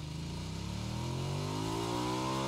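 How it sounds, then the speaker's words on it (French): A motorcycle engine in PUBG revs up steadily and loudly, its pitch climbing as it accelerates over about two and a half seconds, with no talk over it. "En plus, c'est une moto."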